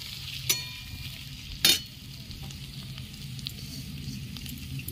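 Chopped ginger and whole garam masala fry in a pan with a steady close sizzle, broken by two sharp clinks of a utensil against the pan.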